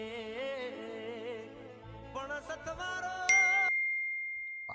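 A phone message notification rings out as a single bright ding that holds and slowly fades, cutting in over tonal music playing in the background.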